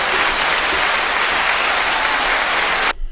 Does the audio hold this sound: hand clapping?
yes